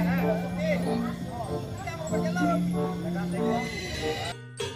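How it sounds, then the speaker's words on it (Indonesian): A horse gives a loud, wavering whinny in repeated bursts, with a voice talking over it and a brief cutoff near the end. "Wow, yang ini ada hewan kuda."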